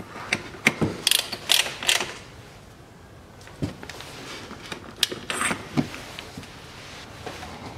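A ratchet tightens bolts during a CVT oil change on a 2010 Nissan Murano Z51. Sharp close clicking comes in quick bursts, stops briefly in the middle, then picks up again.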